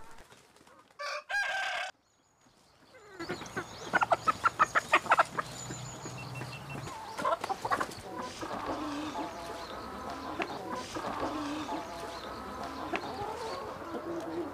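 Farm chickens fed on crop by-products cluck and a rooster crows, a burst of close, busy poultry calls settling into steady clucking over a constant outdoor farmyard background, with no talk.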